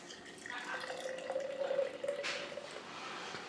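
Beer pours and splashes into a glass for a few seconds, close up, with a gurgling fill rising in pitch.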